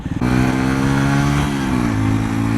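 A nearby Audi car's engine hums steadily behind, a loud continuous drone with a low tonal note that shifts slightly in pitch as it keeps pace.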